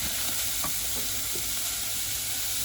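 Diced onion frying in a small pan, a dense continuous sizzle and hiss close up, with a couple of soft stirring taps and no voices.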